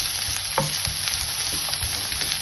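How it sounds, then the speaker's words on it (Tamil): Two large onions fry in oil in a pan for banana pepper chicken masala, making a constant close sizzle broken by soft scraping stirs, with no talk. "ஒரு ரெண்டு வெங்காயம் பெரிய சைஸ் வெங்காயம் போடுறேன் கொஞ்சம் ஃப்ரை ஆகட்டும்"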